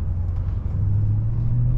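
A BMW G30 M550i V8 engine drives in sport mode with the windows partly down, a steady low rumble holding loud and close throughout with little change in pitch.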